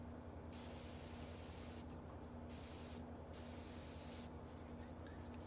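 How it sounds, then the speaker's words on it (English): An airbrush sprays paint to create hair texture, a faint steady hiss pulsing on and off in several bursts over a constant low hum. "we can kind of spray through this, and you see how we get that hair texture"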